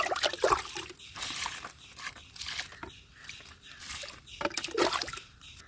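Water trickles and splashes into the soil of a potted guava plant being watered, in close, irregular pours with short pauses between them.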